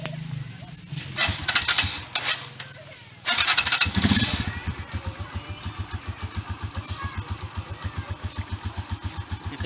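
Rusi 150 motorcycle engine starting and running for a test ride, revving briefly then settling into a close, steady idle with a regular thumping rhythm, with talk at the start.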